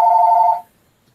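A telephone rings once indoors, a loud steady electronic tone lasting about half a second before cutting off to silence.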